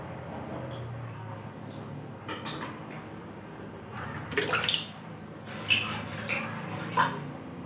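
Water poured through a sieve while harvesting artemia makes a moderate, continuous splashing and trickling, with a few louder gushes and knocks, close up.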